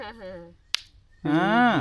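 One crisp, sharp pop comes from a sodakku thakkali fruit bursting like a finger snap, close and brief, with a person talking before and after it.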